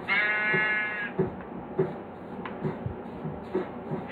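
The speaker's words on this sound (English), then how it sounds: "there's some animals. Sheep, look at the wheat." A Minecraft sheep gives a clear bleat near a field of wheat on a farm, followed by soft scattered game sounds like footsteps and rustles, close and fairly quiet.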